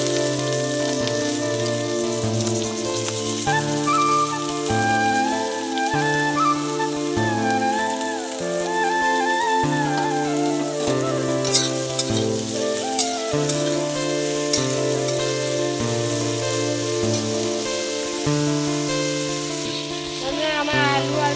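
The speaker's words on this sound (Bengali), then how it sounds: "আমি প্রথমে আলু আর বেগুনটাকে দিয়ে ভেজে নেবো।" Chopped potato and brinjal fry in a pan, giving a steady sizzle that runs throughout beneath prominent background music.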